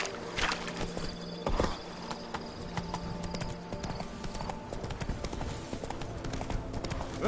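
Hooves of Roach, the horse in The Witcher 3, clip-clopping at a steady quick beat on the ground, fairly soft, with game ambience around.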